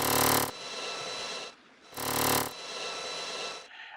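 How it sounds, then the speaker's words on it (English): Gun sound effect for a 2D video game, built from a drill recording: two loud, harsh, buzzing bursts of about half a second each, separated by a rough grinding tail and brief quieter gaps. "I made those sounds with a drill sound."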